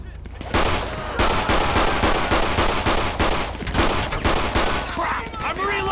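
Rapid police shootout gunfire in GTA V with the LSPDFR mod, loud close bursts of repeated shots cracking in quick succession for several seconds, tapering toward the end.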